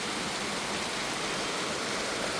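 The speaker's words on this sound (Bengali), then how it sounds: "ওয়াও, চমৎকার বৃষ্টি হচ্ছে, চমৎকার।" Heavy rain pours onto a balcony in Bangladesh, a dense, steady hiss of water that fills the scene evenly and close by, with no voices.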